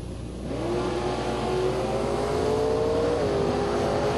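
Bracket race cars launch down a drag strip with a loud, sustained engine roar that climbs steadily in pitch as they accelerate away, with no voices over it.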